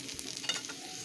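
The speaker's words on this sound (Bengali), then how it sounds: "তেলটা গরম হওয়ার পরে পেঁয়াজটা দিয়েছি" Onion frying in hot oil for methi shak, a brief close crackling sizzle as it is stirred, with a soft scrape of the spatula.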